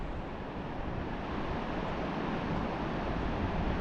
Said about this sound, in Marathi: पाण्याचा आवाज जर तुम्ही ऑब्झर्व केलं ना, इतका खळखळ येतोय ना